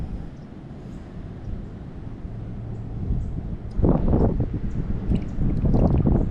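Wind buffets the microphone in loud, uneven gusts over a low rushing background at a small pond while fishing, growing rougher toward the end.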